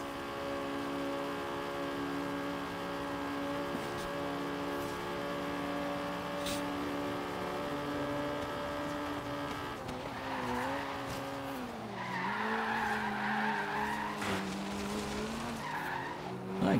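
A Fiat Abarth 595 in Forza Horizon 3 drives steadily with a buzzing engine drone that shifts pitch, joined by tire squeal and skidding in the last few seconds, loud and close with no talk.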